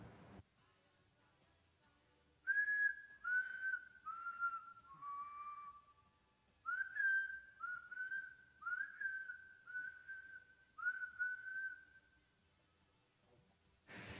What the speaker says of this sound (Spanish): Voy a silbar las 4 vocales que usamos y luego las 5 consonantes